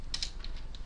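Code typed on a computer keyboard: a handful of quick, close key taps in under a second, light and crisp over low room hum.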